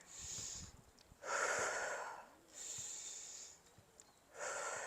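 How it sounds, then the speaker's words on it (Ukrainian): Deep exercise breaths, loud airy inhales and exhales alternating in slow, steady cycles close to the listener, each lasting around a second, with no talk. "Вдих, видих."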